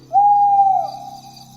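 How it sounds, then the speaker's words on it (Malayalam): An owl gives one long, drawn-out hoot in a forest at night. The call is steady and loud, then fades into a soft tail. There is no other sound. "കൂമന്മാർ നീട്ടി മൂളുന്നു."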